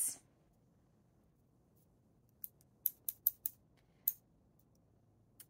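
Quiet, crisp metallic clicks from a new pair of craft snips being handled, a quick cluster of about half a dozen sharp snaps after a silent stretch, with no talking.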